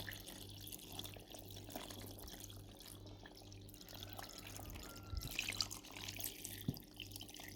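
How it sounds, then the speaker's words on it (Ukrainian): Cooled brine for eggplants pickled with carrots is poured into a container, making a quiet, continuous trickle and splash of liquid with a few louder gushes near the end. "Зараз заливаю остившим уже розсолом."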